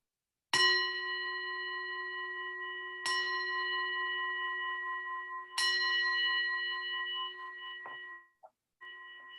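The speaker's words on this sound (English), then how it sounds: "I'm going to ring the bell one more time. Actually, I'm going to ring it 3 times." A bell struck three times at a calm, even pace, each ring sustained and slowly fading with clear ringing overtones, followed by a brief soft tap or two, close and alone with no talking.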